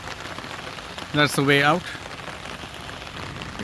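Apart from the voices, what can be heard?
rain falling while walking outdoors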